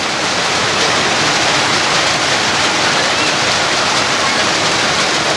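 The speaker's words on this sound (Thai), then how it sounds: "ฝนเริ่มแรงแล้วครับ" Heavier artificial spray rain at a women's football final pours down in a thick, uniform roar of water, loud and close, holding steady for several seconds without pauses or talk.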